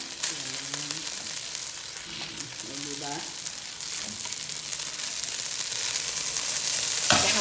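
Spaghetti with sardines sizzles and fries steadily in a pan, a continuous crackling hiss that grows slightly louder, with occasional stirring scrapes and faint voice-like sounds in the background.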